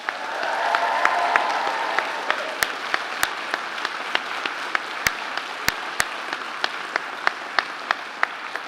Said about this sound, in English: A proper clap and a proper cheer,